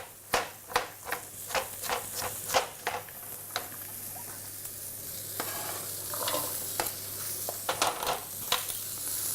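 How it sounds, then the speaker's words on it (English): Chopped carrots stirred into a hot pot of sizzling garlic, onions and celery, with a busy run of sharp spoon scrapes and clacks over a steady frying hiss, close and fairly loud. "Just going to finish up to cut these carrots and to add that in."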